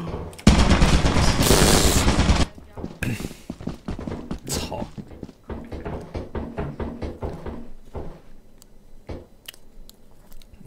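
Automatic turret machine gun in Lethal Company fires a loud, dense burst for about two seconds, then continues with rapid, sharper shots that thin out over the remaining seconds, with talk over the top.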